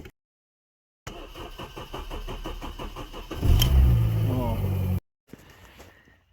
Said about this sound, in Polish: Idziemy odpalać auto.